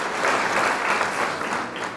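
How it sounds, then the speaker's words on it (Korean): Audience applause welcomes a presenter at a Korean consumer group's business information session, a steady, dense wash of many hands clapping at even loudness for the full two seconds. "사랑의 박수로 맞이해주시기 바랍니다"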